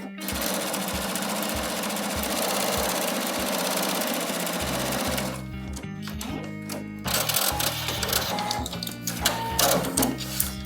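Quilt pieces feed through a sewing machine in a long continuous run of dense, whirring stitching, then the motor stops and gives way to a few short, uneven bursts and clunks.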